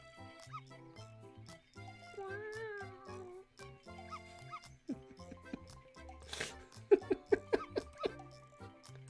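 A pet cat makes squeaky, drawn-out whimpering cries that rise and fall, followed by a burst of short rapid yips, close by with some faint background noise and a little human laughter.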